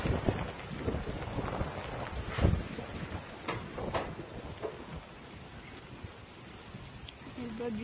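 Steady heavy rain with gusting wind during a typhoon in the Philippines, buffeting the microphone, a few louder bursts standing out near the start.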